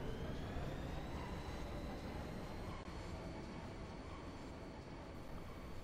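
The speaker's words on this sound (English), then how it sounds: "The train bound for Delhi City will be departing shortly." A train rumbles steadily inside the video game Final Fantasy VIII, a continuous low, broad mechanical drone holding even and moderately loud throughout with no voices.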